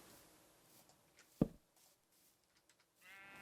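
A single short sheep bleat from Minecraft stands out once against a quiet, faint background with a few soft clicks and small sounds.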